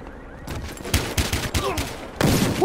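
Gunfire in Battlefield Hardline multiplayer on PS4: a burst of rapid sharp shots, then scattered single cracks and a final loud volley, with a voice briefly heard in the mix.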